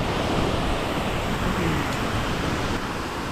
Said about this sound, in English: there's a lot of water coming over the dam as well